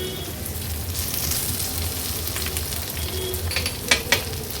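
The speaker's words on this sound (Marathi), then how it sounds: "मिरची तेलावर परतून झाले की हे उकडलेले बटाटे ऍड करूया व्यवस्थित हे मोकळे करून घेते मी" Boiled potatoes stirred into green chillies frying in oil, a steady close sizzle with a couple of sharp spoon clinks against the pan toward the end.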